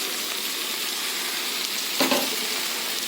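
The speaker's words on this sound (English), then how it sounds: "Now we will add the rice and dal in it." Rice and dal for moong dal khichdi hit a hot pan, giving a steady loud sizzle and fry hiss with a brief sharp burst as the grains land, heard close with no voices.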